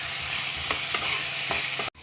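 Potatoes frying with spices in a pan, a dense continuous sizzle with a few utensil scrapes from stirring, close and loud, cutting off abruptly near the end.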